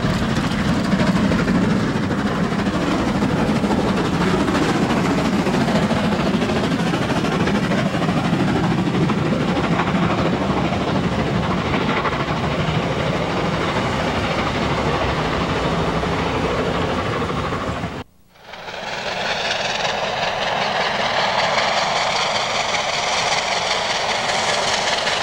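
Two South African steam locomotives double-heading, a Pacific 858 coupled with a 482, roll past with a steady loud rumble of wheels and rail clatter, cutting abruptly to a different, quieter section of continuous train noise near the end.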